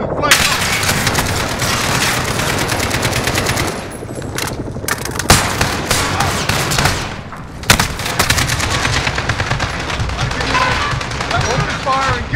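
Sustained automatic gunfire rattles in a Call of Duty battle, dense rapid bursts filling the scene with short gaps and a few heavier reports, while voices call out over the combat.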